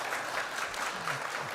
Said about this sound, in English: you can give him applause.